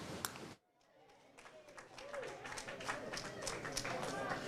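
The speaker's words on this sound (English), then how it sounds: "we just heard a round of applause over here" Supporters at a Southeast Texas election-night camp clap in a scattered round of applause, faint and somewhat distant, mixed with crowd murmur while a reporter talks over it.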